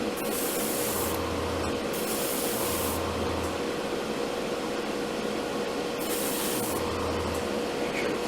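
Airbrush or spray can misting paint onto the cockpit interior of an Academy SBD-5 Dauntless scale model, in several short hissing bursts of about a second each, close and steady, with no talk.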